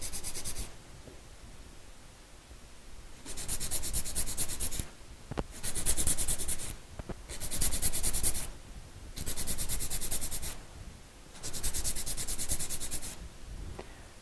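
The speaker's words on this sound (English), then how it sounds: "file the top of the nail, bevel down on the side, across the top, down on the other side, using a horseshoe pattern" A 100-grit zebra file rasps across the top of a sculptured acrylic nail in repeated close strokes, with raspy bursts alternating with quieter pauses in a steady back-and-forth rhythm.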